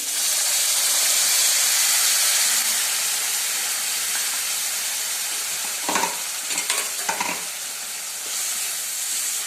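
Tomato and coriander paste frying in hot oil in a pan for a chicken masala gravy, a loud steady close sizzle with a few stirring scrapes partway through.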